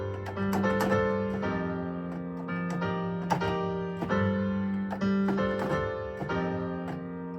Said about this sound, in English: Now, I picked out a piano I love working with. It's got a lot of edge